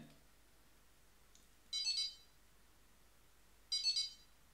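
A phone rings when triggered by a Tile tracker app, giving two short, bright electronic chime bursts about two seconds apart against a quiet room.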